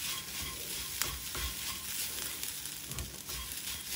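Onion paratha filling being stirred and mixed with salt by hand or spoon, a steady close scraping and rustling with small soft knocks throughout, no talking.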